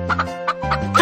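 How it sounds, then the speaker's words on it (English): Cartoon hens cluck in the Baby Panda's World of Math educational game as four hens walk into a hen house, several short bursts of clucking, close and clear, followed by a rising squawk at the end. "4 hens walk into the hen house."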